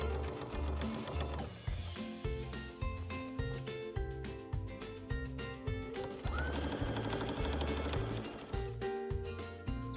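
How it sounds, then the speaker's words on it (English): A sewing machine stitches a quilt binding seam at a 5/8-inch allowance, a steady run of rapid mechanical needle clatter that continues through most of the stretch alongside prominent tonal, rhythmic sound. "And then just resume sewing that same seam allowance, 5/8 of an inch, or whatever you choose, down the other side of the quilt."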